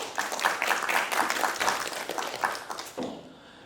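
A conference audience applauds after an academic presentation, a dense burst of clapping that swells and then tapers off over a few seconds.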